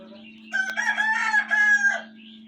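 A native country rooster crows once, close and loud, a strained call lasting about a second and a half over a constant low mechanical hum.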